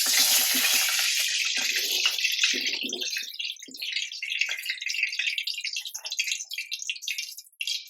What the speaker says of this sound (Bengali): আমার কড়াইয়ে গরম হয়ে গেছে, তেল দিয়ে দিলাম।